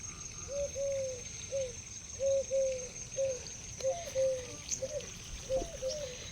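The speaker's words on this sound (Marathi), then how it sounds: "पक्षी किती छान आरडतोय ना" A bird calls repeatedly at a short distance in a village before dawn, a series of brief hooting coos in a loose rhythm over faint background noise.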